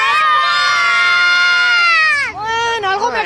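A crowd of children shouts a name in unison at a Three Kings parade in Pamplona, producing a loud, sustained, high-pitched cry that dips briefly and then swells again into scattered yelling.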